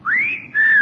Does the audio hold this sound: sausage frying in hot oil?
no